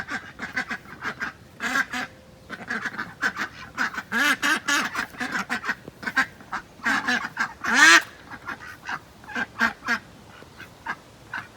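Ducks penned apart from other ducks and a chicken quack in repeated bursts, loud and close, with irregular clusters of calls and short pauses between them and no talking.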